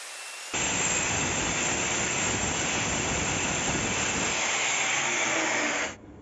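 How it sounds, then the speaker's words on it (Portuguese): An electric cutting disc making a test cut through porcelain tile, a loud steady high whining grind that starts abruptly, holds for about five seconds and cuts off. "Vou ligar aqui na corrente elétrica e vou fazer o último corte de teste."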